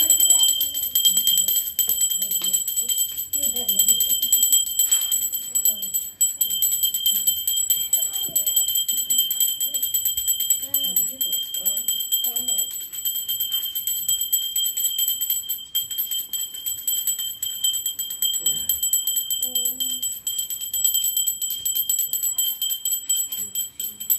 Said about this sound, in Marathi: घंटी वाजवत चाललाय मस्त.